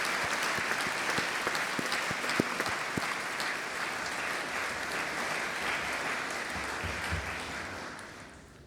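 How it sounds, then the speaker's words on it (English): Graduates at a degree ceremony clapping to thank their families, a sustained round of crowd applause with sharp individual claps early on, gradually thinning and fading out at the end. "So perhaps the graduates would just like to join me in clapping to thank their families for all the support they've been given over the last few years."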